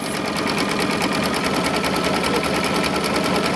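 An embroidery machine stitches small flower detail in thread, producing a steady, fast, close mechanical chatter with rapid even pulses throughout, loud and alone without speech.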